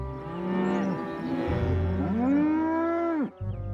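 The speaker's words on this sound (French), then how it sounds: "Ces vaches ne devraient pas être là." Cartoon cows in a Thomas and Friends scene give long, drawn-out moos that rise and then fall, one after another, loud and close, with no speech over them.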